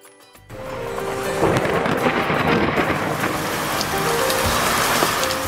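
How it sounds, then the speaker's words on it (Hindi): Heavy monsoon rain pours over Lahore, a dense, steady hiss of downpour on surfaces starting abruptly and continuing close and loud, with a low rumble that may be distant thunder. "घनघोर घटाएं बरसी तो शहर भीग सा गया।"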